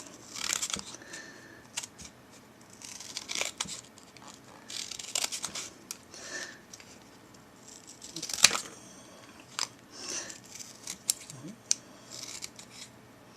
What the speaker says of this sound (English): when I cut chipboard on a curve, I kind of do it in pieces like that